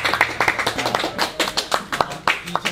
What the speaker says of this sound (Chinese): 好，鼓掌。